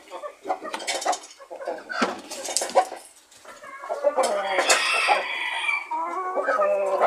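Free-range hens cluck and a rooster crows nearby as a broody hen is settled onto eggs in a nest of chopped rotten-wood shavings, with continuous overlapping calls throughout and no talk.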